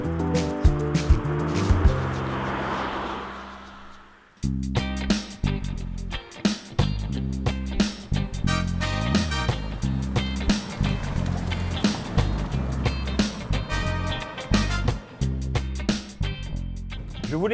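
A Citroën C3 Aircross, a 2018 front-wheel-drive crossover, speeds along a narrow dirt track, its tyres rumbling and bumping over ruts with loud, uneven thuds and continuous road noise throughout.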